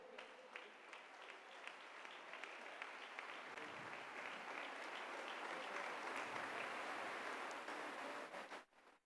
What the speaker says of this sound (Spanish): ¿Quiere darle usted un aplauso al Señor por eso?